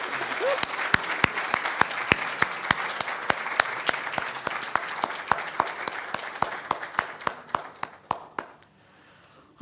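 An audience at a university audiology oath-taking ceremony applauds prize winners with sustained, fairly distant clapping that holds steady, thins out, and stops near the end.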